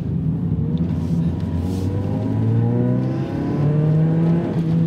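A Toyota Yaris GRMN hot hatch engine pulls hard while driving, a loud close drone that climbs and drops through repeated rising sweeps as it revs through gears.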